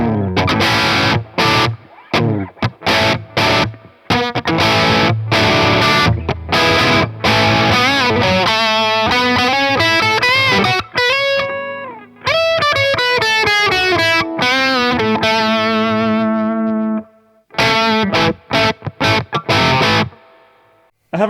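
A Crafter Crema S Strat-style electric guitar plays through a humbucker pickup with a Gov'ner overdrive pedal and reverb, producing loud, sustained distorted chords and riffs, alone with no talk.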